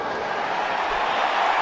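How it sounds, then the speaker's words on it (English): Stadium crowd at a Currie Cup final between the Golden Lions and Western Province roaring after a successful rugby place kick, a dense, steady wash of cheering that swells slightly toward the end. "Great roar from the crowd as Marnus Boshoff kicks his first successful place kick."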